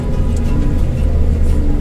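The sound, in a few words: Daihatsu Terios climbing a hill in second gear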